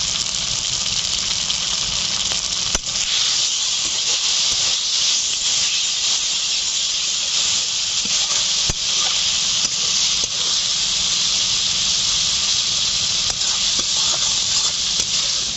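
Spices, chopped tomato, dried chili paste, salt and turmeric sizzle steadily in a hot pan, a loud, even hiss with occasional sharp pops and crackles and no talking.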